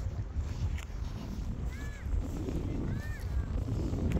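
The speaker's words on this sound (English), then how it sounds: "You may not be hearing me because it's so windy." Strong wind buffeting the microphone at a Dublin beach, a constant loud low rumble throughout, with faint distant bird calls briefly rising above it.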